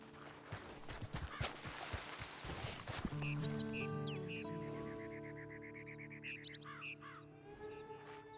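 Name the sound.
horse hooves clip-clopping in video game Red Dead Online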